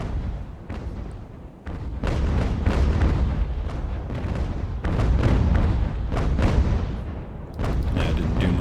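Naval cannons booming in Ultimate Admiral: Age of Sail, several heavy broadside blasts rolling into one another with long rumbling tails over a loud continuous roar and no clear gaps.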